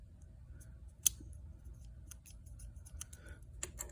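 Key posts on a Commodore SX-64 keyboard scratch against the edge of a sagging membrane, giving faint, sparse scraping ticks and one sharper click over a quiet low hum.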